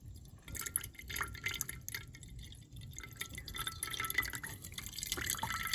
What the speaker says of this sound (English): So we want to let that drain until we get gas coming out of there.